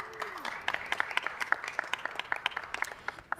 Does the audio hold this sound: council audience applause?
yes